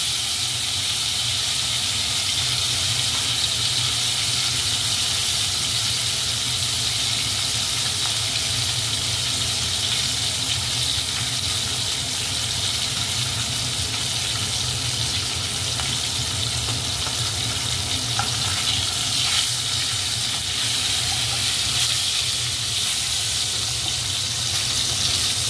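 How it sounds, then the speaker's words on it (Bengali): Pieces of katla fish fry in hot oil for curry with turnip, a steady loud sizzle and hiss holding throughout with faint crackles, no talking. "কাতলা মাছগুলো তেলের মধ্যে দিয়ে দেওয়া হচ্ছে।"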